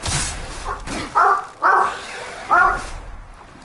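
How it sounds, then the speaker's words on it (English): A dog barks indoors in three loud, separate bursts, each short and sharp, with a faint whine before them and quiet afterwards. "the dog got very upset about something"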